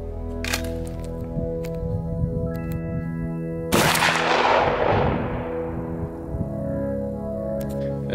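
Single loud shotgun blast fired with a fully open cylinder choke at a target 30 meters out, a sharp crack followed by a long fading decay over a steady background hum.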